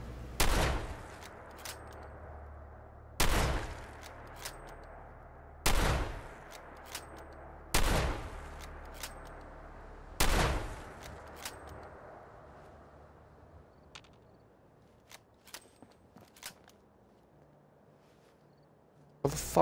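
Weapon fire in Fallout 4 at a Starlight Drive-In settlement, five loud sharp shots spaced a few seconds apart, each with a decaying echo, followed by fainter scattered pops and clicks.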